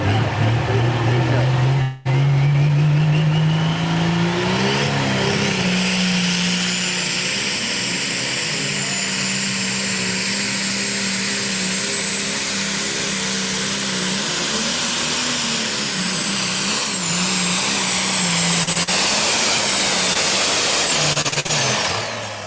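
A tractor engine roars at a pulling event, a loud sustained drone that rises in pitch early on, then holds a steady strained note with some wavering through to the end, with no voices.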